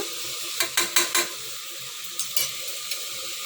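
A spoon stirs turmeric powder through sizzling oil for eggplant gravy, a soft frying hiss broken by several quick scraping clatters in two bursts, close and without voices.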